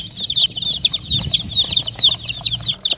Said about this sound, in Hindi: मुर्गी मुर्गी मुर्गी, मुर्गी चूजा बाहर चला गया